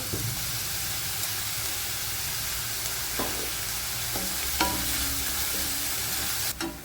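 Onions sautéing with a little salt in a pan for a potato stir fry: an even, close sizzle runs throughout, with a few spatula scrapes and clicks near the end and no talking.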